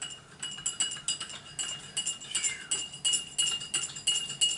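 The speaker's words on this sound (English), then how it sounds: "And just stir it around." A spoon stirring liquorice root tea in a cup gives quick, bright clinks and scrapes against the sides, repeated in a steady rhythm, close and fairly quiet, with no talking.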